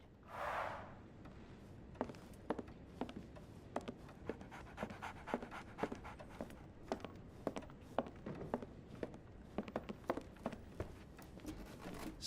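Steady dog panting in Sherlock Holmes The Awakened, a quick rhythmic run of breathy huffs going on throughout, close and fairly quiet, with a brief louder whine-like breath at the very start.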